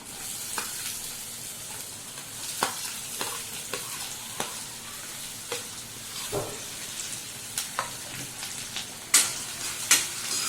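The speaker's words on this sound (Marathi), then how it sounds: "सगळं सोनेरी रंगावरती परतून घेऊया कांदा कच्चा ठेवायचा नाही" Onion, garlic, cumin and curry leaves sautéing in a pan until golden for a dry shrimp dish: steady soft sizzle under repeated scraping stirs with a spatula, occasional louder clinks toward the end.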